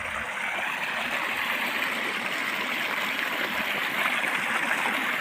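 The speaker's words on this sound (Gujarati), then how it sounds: "પાણી આવી ગયું છે કેરામાં" Pumped water rushes steadily into an irrigation channel, a broad even gushing flow with no pauses, close by and fairly loud.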